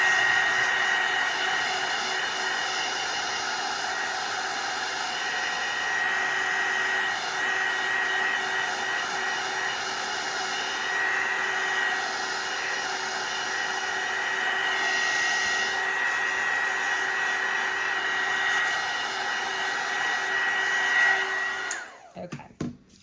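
Hair dryer blowing continuously to dry gesso on an altered playing card, a steady loud whine with a constant tone that runs for over twenty seconds before cutting off abruptly with a few clunks.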